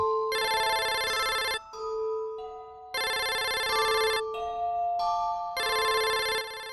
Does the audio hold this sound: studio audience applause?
no